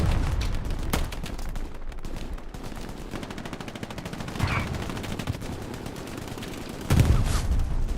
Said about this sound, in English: Mr. Mojo Rising gets blasted by Constantine with the shotgun